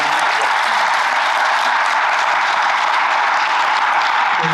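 Sustained applause from a conference audience closing a panel on formerly incarcerated faculty, dense and steady clapping filling the room without a break and without any talk over it.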